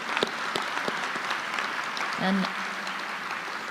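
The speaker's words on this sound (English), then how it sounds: "we'll have a brief round of applause for our 2026 Research Award winners." An audience at an opening session gives Research Award winners a brief round of applause: moderate, roomy clapping that runs steadily, while a voice briefly speaks over it partway through.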